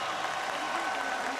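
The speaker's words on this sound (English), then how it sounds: "A round of applause for both of these gladiators." Steady applause from a boxing arena crowd fills the whole stretch, a dense wash of clapping heard from some distance.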